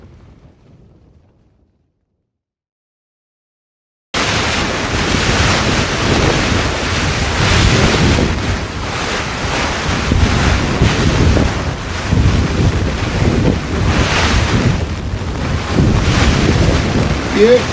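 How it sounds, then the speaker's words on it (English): Storm Amy lashes a ship at sea with roaring wind and crashing waves. After about four seconds of near silence, the loud, dense rush starts and keeps going, gusting and surging with no pause. "Yeah, the storm's here."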